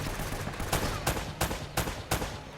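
Gunfire from the action game Uncharted: Drake's Fortune, with several sharp shots in a steady rhythm. The shots ring out close and loud over a constant game background, and nobody speaks.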